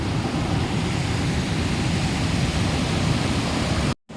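Usri Falls waterfall in Jharkhand roaring steadily as a dense, continuous rush of falling water, loud and close, cutting off abruptly at the end.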